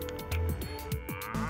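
Dairy cows on a family dairy farm moo in several drawn-out, low calls, one after another, fairly close and clear with no talk over them.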